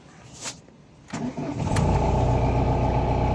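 A car engine starts close by with a brief crank and catches, then holds a steady, loud running drone while the car sets off around a car park.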